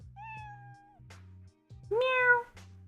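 A person imitates a cat meowing, giving two drawn-out nasal meows, the second louder and rising, between stretches of low background hum.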